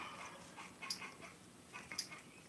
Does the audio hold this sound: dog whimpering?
yes